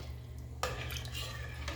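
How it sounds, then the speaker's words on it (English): A spoon scrapes and clinks against the inside of a pot of chicken soup, with a sharp tap followed by soft stirring sounds over a low background hum. "And now I'm going to stir all this in"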